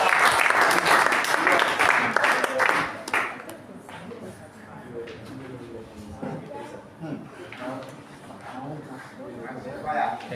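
Loud audience clapping at an academy inauguration and convocation ceremony, strong at first and then fading into scattered claps while a voice talks over it.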